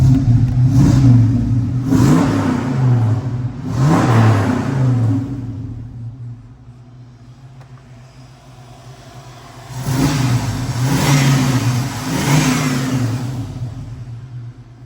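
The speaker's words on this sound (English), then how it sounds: "Let's go ahead and give this thing a rev." A 1969 Pontiac Firebird with a V8 engine and a 3-speed automatic revving close up, with two loud blips early on, a dip to idle, then two more strong revs.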